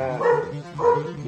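A neighbor's dog in rural Cavite gives two close, loud barks about half a second apart, with no other sound.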